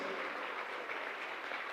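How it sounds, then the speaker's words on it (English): Crowd clapping at a high school basketball game, a steady dense patter of applause held throughout, moderately distant and fairly soft. "let's get a big round of applause for all our seniors"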